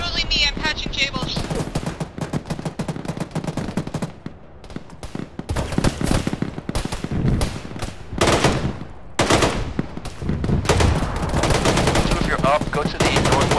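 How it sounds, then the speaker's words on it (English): Autocannon fire inside an aircraft hangar in a multiplayer shooter video game: loud, rapid bursts of heavy gunfire with echoing reports that keep coming for several seconds, briefly easing before resuming at full intensity. "There's definitely an autocannon shooting inside the hangar."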